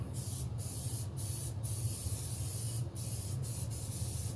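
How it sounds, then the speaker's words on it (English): Spray glue hisses from an aerosol can while fabric is glued for a Viking-style knife sheath, a steady close spray broken by several brief pauses. "And you don't be shy using your spray glue."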